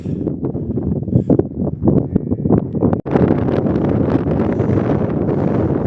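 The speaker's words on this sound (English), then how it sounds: "Yep, the wind's gusting." Wind buffets the microphone in rough, rumbling gusts on the Crib Goch ridge in Snowdonia, swelling noticeably louder halfway through and staying strong.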